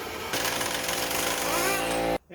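A small compressor drives an air tool, loud and steady as it rattles a nut off a 2008 Can-Am Outlander's swing arm, a near continuous hammering burst that stops abruptly.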